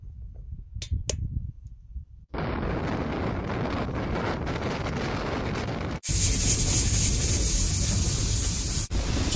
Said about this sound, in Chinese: 外面好大风啊